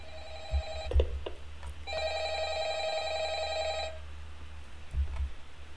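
A telephone rings twice in a video game, each ring a sustained electronic trill of about two seconds with a pause between, fairly close, while soft thumps and footsteps move underneath.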